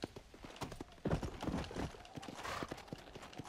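Horse hooves clip-clop steadily in Red Dead Redemption: Undead Nightmare, a close, rhythmic run of sharp thuds with a brief louder surge midway and no talk.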